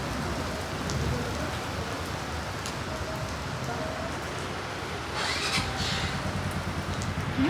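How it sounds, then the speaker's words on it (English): Heavy rain falls steadily on a dark evening, a dense continuous hiss that stays even throughout, with a brief voice in the middle and a faint engine-like rumble beneath. "So first time it's get heavy raining and very very dark."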